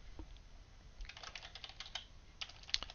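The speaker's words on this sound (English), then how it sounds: "See, I'm so excited I can't even type." Someone typing on a computer keyboard while writing code: soft, close, uneven keystrokes in short bursts, faint at first and then a quick flurry of taps.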